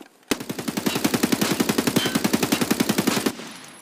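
An AK rifle fitted with an underbarrel grenade launcher fires in Escape from Tarkov, a loud sustained full-auto burst of about thirty rapid, evenly spaced shots, then a sudden stop.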